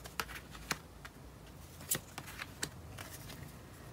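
Tarot cards being shuffled and two drawn from the deck, a series of soft, quiet riffles and crisp snaps spaced irregularly over a few seconds, close and alone with no talking.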